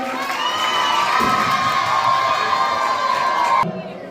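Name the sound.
audience applause and cheering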